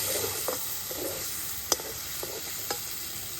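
Boiled elephant foot yam sautéing in a pan with a shrimp-curry spice mixture gives a steady, close hiss and sizzle, with occasional sharp scrapes and taps of a spatula stirring against the pan.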